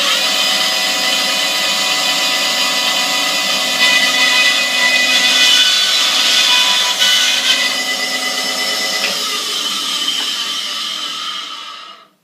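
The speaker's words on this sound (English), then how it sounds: "So first off, we will cut our blank." A power saw cuts a wooden pen blank with a loud, steady whining roar that holds for about ten seconds, then winds down and ends.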